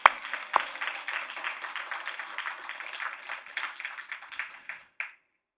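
A church congregation at a Friday night service claps together in a loose, rhythmic patter of many hands, moderately quiet and roomy, fading out after about five seconds.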